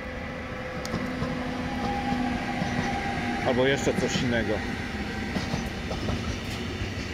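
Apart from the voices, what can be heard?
passing train with locomotive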